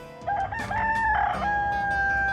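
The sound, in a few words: chicken clucking and rooster crowing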